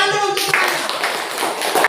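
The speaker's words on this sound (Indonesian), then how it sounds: "Tepuk tangan dulu untuk mereka" A classroom audience gives brief applause as a student group comes forward to present, close clapping lasting about two seconds under a teacher's voice before it cuts off.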